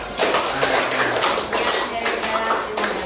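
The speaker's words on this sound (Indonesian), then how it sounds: "tepuk tangan buat Mas Bambang" Students clapping in a classroom for a classmate, loud uneven claps with shuffling, mixed with voices and murmuring over the whole stretch.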